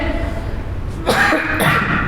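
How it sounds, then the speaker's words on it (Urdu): A man who is unwell, speaking during a religious lecture in Urdu, coughs twice in quick succession, close and loud, after a stretch of quiet room tone. "وقتاً فوقتاً یہ کھانسی آ رہی ہے"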